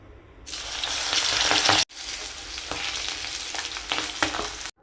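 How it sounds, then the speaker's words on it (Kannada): Sweet corn kernels for crispy corn hit hot oil and fry with a loud, steady hiss, broken by a brief cut partway through before the sizzling resumes at a similar level. "ಇವಾಗ ಇದನ್ನು ಎಣ್ಣೆಗೆ ಹಾಕ್ಕೊಳ್ಳೋಣ. ಎಣ್ಣೆಗೆ ಹಾಕ್ಕೊಂಡು ಕರೆದುಕೊಳ್ಳೋಣ."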